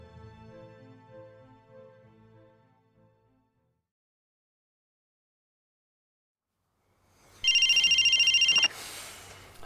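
A telephone rings in a quiet interior scene, one loud, bright electronic burst rising out of near silence after a stretch of faint low background sound, with no voices over it.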